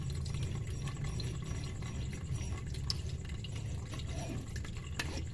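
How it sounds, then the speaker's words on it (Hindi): Tamarind pulp water is strained into a jug, giving a quiet continuous trickle and drip of liquid with a few faint clinks, low in level throughout. "अब हम क्या करेंगे कि इसको छान लेंगे अच्छे से।"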